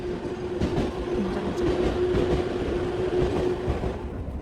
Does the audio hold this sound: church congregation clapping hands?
no